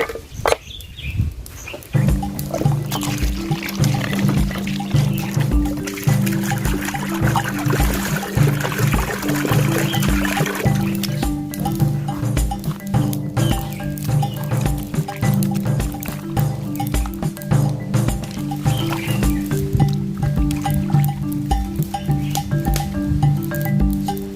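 Water pours and splashes over cow intestines as they are washed, with a steady liquid trickle, dripping and wet squishing close by throughout, no talk.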